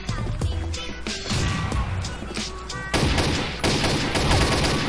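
Gunfire in the Combat Arms video game on the Oil Rig map with an ARX-160 rifle: dense bursts of rapid shots and sharp cracks, loud and continuous, with brief speech mixed in.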